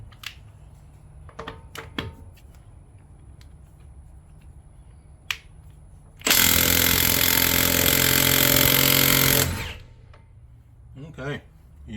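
A Milwaukee 2864-20 high torque 3/4-inch impact wrench set to mode 4 hammers loudly and continuously for about three seconds, starting abruptly and winding down, with quiet clicks and handling noises before and after.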